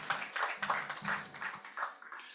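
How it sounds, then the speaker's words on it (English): Applause at a company annual general meeting: a brief patter of scattered hand claps from the audience, moderately close, tapering off within a couple of seconds. "I want my colleagues to give us a very round of applause for that."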